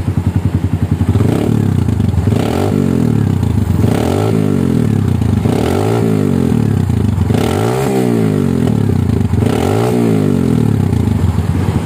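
A Kawasaki W175 fitted with a racing exhaust revs in a workshop: about six loud, repeated throttle blips, each swelling and falling back to a throbbing idle, with no talking over it.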